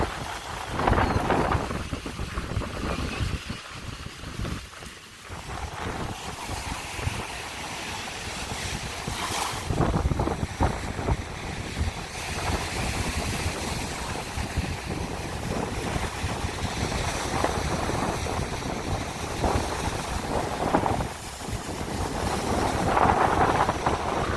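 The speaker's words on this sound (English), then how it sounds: "The wind is blowing awfully hard at me" Strong wind on a Lake Erie beach battering the microphone in a continuous roaring buffet, with loud gusts rising and falling throughout and surf blending into the rumble, and no talking.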